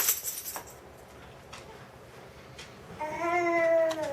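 A house cat named Mr. Binks meows near the end, a drawn-out, tonal cry rising out of quiet room noise after a few faint clicks and clinks.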